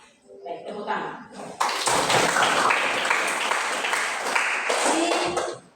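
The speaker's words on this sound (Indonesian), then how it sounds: "Baik, tepuk tangan." Schoolchildren clap together in a classroom, a dense burst of applause lasting several seconds and then fading, with a voice speaking and some chatter mixed in.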